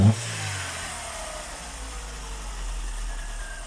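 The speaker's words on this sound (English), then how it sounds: "She idles, she revs up perfectly fine." Opel Corsa engine idling with a low steady rumble, then rising gently into a moderate rev toward the end; a brief knock opens the clip, with no talk over it.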